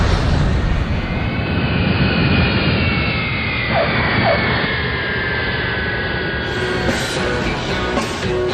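Airplane jet engines start up and roar, a loud, continuous broadband rumble with rising and falling whine tones layered over it, steady throughout with no talk.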